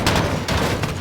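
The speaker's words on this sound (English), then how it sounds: "It was when I was breaching a metal container, diving in and firing a shotgun." A shotgun firing inside a metal container in Call of Duty: Modern Warfare, giving loud, booming, reverberant blasts that come in quick succession and fill the whole moment.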